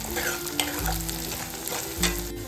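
Finely chopped green chilies and curry leaves frying in hot oil in a pan while being stirred for a spicy chicken dish, a steady sizzle broken by a few scraping knocks of the spoon.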